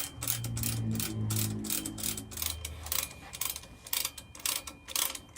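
A spanner tightens on the right-hand fork of a Yamaha Virago motorcycle, making a rapid series of dry ratcheting clicks, moderately close, with a low hum underneath during the first few seconds.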